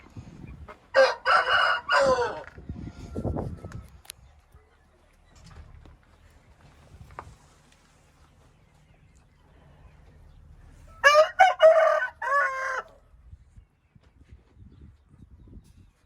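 An Aseel rooster crows twice, each call loud and drawn out with a gap of several seconds between, while softer clucks and low rustling fill the quieter stretch in the middle.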